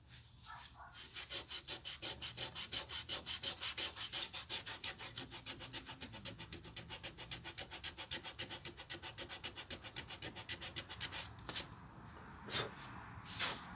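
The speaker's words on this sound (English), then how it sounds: "That's getting rid of it though, sanding on it." Steady, rhythmic sanding strokes rasp back and forth over a surface in a blacksmith forge, fast and even, with a few sharper scrapes near the end.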